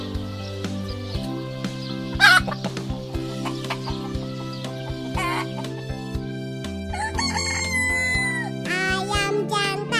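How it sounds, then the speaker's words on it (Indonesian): A mother hen clucks and calls in short, bright bursts over a steady tonal musical backing, close and clear with no talk. "Induk ayam."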